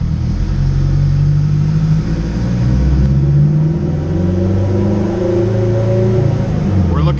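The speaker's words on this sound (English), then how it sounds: "we're just gonna kind of roll into the gas here and take off from a dead stop" Turbocharged Acura RSX on a dyno, its mid-pitched engine rumbling steadily and rising as it pulls away from a standstill, loud and continuous throughout, with a voice talking over it.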